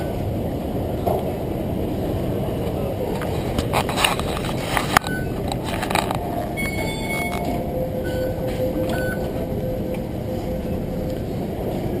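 A Hong Kong MTR metro train rumbles steadily along the rails with clattering bumps, squeaks, and a faint high whine, heard from inside the car.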